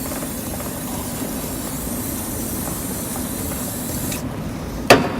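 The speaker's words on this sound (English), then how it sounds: "there's loads of commercially available cleaners that you can use. Give it a good old soak in." Cleaner sprays continuously onto a motorbike chain in a steady loud hiss that cuts off briefly near the end, followed by a single sharp knock.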